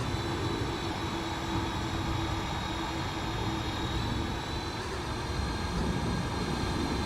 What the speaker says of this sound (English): I can definitely hear Lalu's engines.